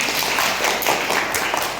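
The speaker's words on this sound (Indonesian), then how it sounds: "berikan tepuk tangan" A class of students applauds in a classroom after a correct answer during a Quran lesson. The clapping is soft, even and continuous, with no distinct individual claps.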